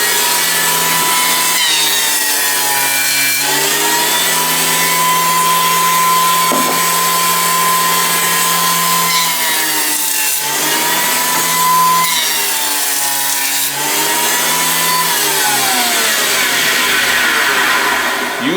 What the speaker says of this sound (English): He's got a segmented carbide head in him, so he gets a nice clean cut.